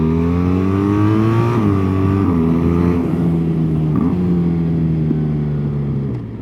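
The boxer engine of a BMW naked motorcycle drones steadily and close, its pitch stepping down through several shifts as it decelerates, loud and alone with no talk.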